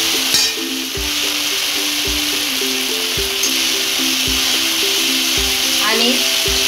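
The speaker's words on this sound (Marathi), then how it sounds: "हे सर्व मिक्स करून घ्यायचं आहे." Manchurian gravy sauce is stirred and mixed in a hot pan, giving a steady sizzling hiss with regular soft knocks of the spoon about once a second, over a quiet melodic background tune.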